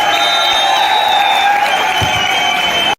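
A crowd at a kabaddi match between RCC Bhopal and Indore cheers and claps loudly and continuously for about three seconds, with whistles and whoops over the noise, then it cuts off abruptly.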